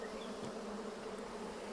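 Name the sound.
honeybees buzzing in an open beehive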